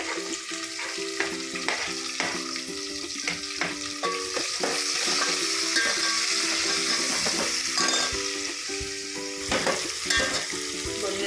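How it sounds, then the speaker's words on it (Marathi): Onion and green chillies fry in a pan for paneer matar pulao, a steady close sizzle running throughout with repeated scraping stirs and light clinks of the spoon against the pan. "मिरच्या कांदा लाल होईपर्यंत परतायचं आहे"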